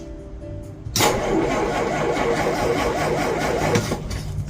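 A Dodge engine with a Stromberg BXVES-3 carburetor cranks and catches after a second, then runs at a loud, steady, rough idle close by.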